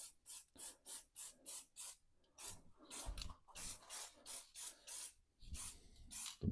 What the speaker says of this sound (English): So you just spray it on.